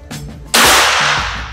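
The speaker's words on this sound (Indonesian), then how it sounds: "kita akan coba lagi untuk tembakan yang ketiga" A single sharp crack of an air rifle fitted with a Ghost Warrior regulator, a loud close burst with a hissing release that tapers over a second, preceded by faint clicks.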